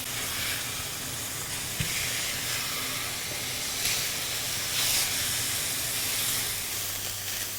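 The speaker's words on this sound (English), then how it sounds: "Now I'm just going to add the bison to the coconut oil and onion." Ground bison sizzles steadily in hot coconut oil with onion in a pan, a continuous close hiss and crackle with no talking.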